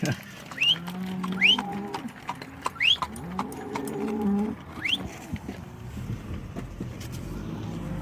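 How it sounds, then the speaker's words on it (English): Cattle mooing near a road in rural Oregon along Winter Rim, several long, low moos in close succession heard from inside a car, with engine hum and a few whistling bird-like squeaks. "Oh, a cow right there."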